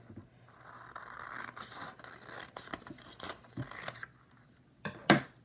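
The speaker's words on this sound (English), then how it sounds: "you can take your papers and you can cut them in half" Scissors cutting sheets of printmaking paper in half: a series of quiet snips and scraping rustles of paper, with a sharper, louder cut near the end, close and alone.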